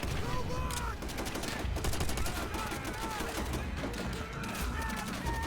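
Gunfire from the video game Call of Duty: World at War, with dense rapid automatic bursts running throughout at steady loud volume and faint game voices mixed underneath.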